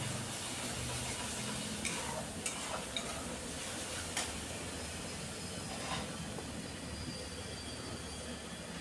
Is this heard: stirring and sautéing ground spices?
yes